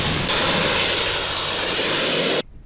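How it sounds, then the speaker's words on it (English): A steam pressure washer cleaning an engine gives a loud, steady blast of hissing steam that roars continuously for a couple of seconds, then cuts off abruptly into near silence. "No chemicals or anything, just steam wash."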